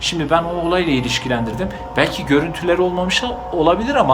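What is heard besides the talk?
No everyday noise stands out behind the speech.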